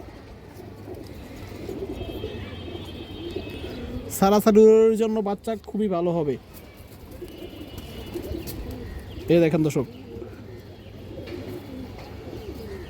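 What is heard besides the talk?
pigeon cooing, large female pigeon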